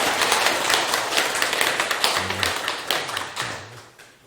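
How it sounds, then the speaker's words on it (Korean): An audience at a gathering breaks into applause, rhythmic group clapping that holds steady and then tapers off, with faint voices murmuring partway through. "박수 한번 부탁드립니다"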